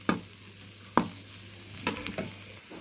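Cucumber and moong dal curry cooking in a pan with chili powder added, a soft simmering hiss punctuated by three or four distinct scraping stirs of a spoon, close and alone.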